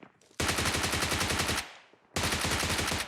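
Rapid automatic gunfire in the mobile battle royale game PUBG Mobile, two long loud bursts of evenly spaced shots separated by a brief lull, close and dominant with no talking over it.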